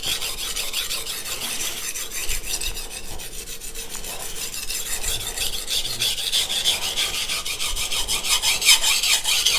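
A Yoshikazu Ikeda honyaki 210mm gyuto in white #2 steel grinds on a 220 grit whetstone, a steady harsh rasping with rapid back-and-forth strokes, close and continuous without talk.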